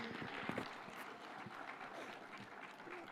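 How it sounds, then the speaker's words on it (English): A conference audience at the Devolution Conference in Homa Bay applauds Raila Odinga, a sustained crowd clapping with some cheering and a faint voice mixed in, holding steady throughout. "an applause for Baba, please"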